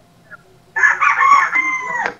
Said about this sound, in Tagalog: Lakas ng manok ka. Yung manok ko nang gigising.